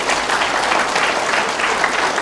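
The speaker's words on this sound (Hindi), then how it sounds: "बहुत जोरदार तालियां बजाएंगे हम सभी साथियों के लिए।" Audience applause at a Hindi talk, a dense, loud, sustained clapping from a full hall with no gaps across the whole stretch.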